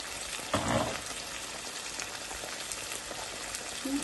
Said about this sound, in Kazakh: Енді осыны қуырамыз.